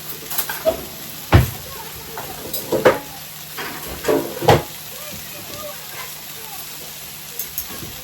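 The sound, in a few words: sausages browning in a frying pan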